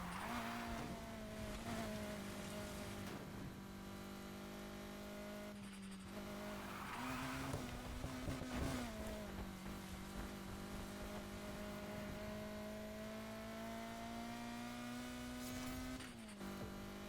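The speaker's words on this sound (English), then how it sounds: "Good hill to drift." A video-game car drifting down a hill, its engine holding a steady high drone while tires squeal in long sustained bursts, with brief revving shifts and short gaps between slides.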